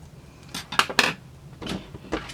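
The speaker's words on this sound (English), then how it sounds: "so now we are going to take our scissors. We'll cut off any of the excess." Dull scissors snip off excess fabric while a spa headband is sewn, giving a few quiet, uneven crisp cuts with short pauses between them and no talk.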